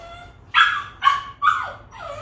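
A puppy whines and then gives a few high yips and barks, close and fairly loud, in a quiet bedroom while its owner lies on the floor doing yoga, with no talking.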